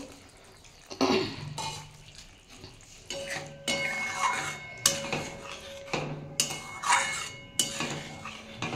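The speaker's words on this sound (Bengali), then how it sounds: "আমি এবার বাটিতে একটু জলটা সামান্য দিয়ে দেবো।" Water splashes from a bowl into a pan of okra gravy that is cooking, with clattering utensil and pot sounds in a close, busy kitchen and a few short pours and stirs.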